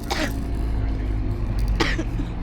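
Two short, dry coughs from a tired woman, spaced apart over a low background rumble.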